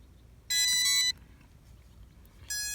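A Holystone 720G drone sounds its electronic bind tone while pairing with its remote: a clear, loud multi-tone beep lasting about half a second, then after a pause the start of a second identical beep, in an otherwise quiet room.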